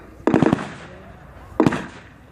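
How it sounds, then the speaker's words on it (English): Blank rounds fired during a World War 2 reenactment battle: a quick burst of three sharp reports, then a single shot about a second later, loud and close over a low outdoor background. "Using covering fire to retreat off the field."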